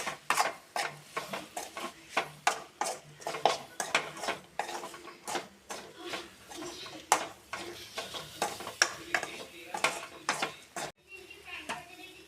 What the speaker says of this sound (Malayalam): മസാലകൾ ചേർക്കാം മല്ലിപ്പൊടി ഗരം മസാല പൊടിച്ചത് ഉലുവ പൊടി മുളക് പൊടി എല്ലാം കൂടെ ചേർത്ത് നന്നായിട്ട് ഇളക്കി കൊടുക്കാം